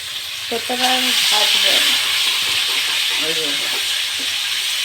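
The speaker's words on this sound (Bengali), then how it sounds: "এভাবে সবগুলো ভাজবে কারণ আমরা সব মাছ ভেজে রান্না করি" Koi fish frying in a pan, a loud steady sizzle and hiss held throughout, close and continuous, with a voice talking briefly over it.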